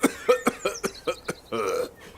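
A character in the video game Memoranda coughs hard: a rapid run of harsh, choking coughs, close and loud, ending in a longer raspy breath.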